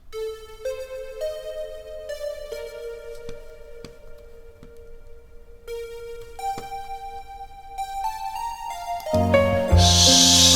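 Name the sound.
Native Instruments Massive synth lead imitating a guitar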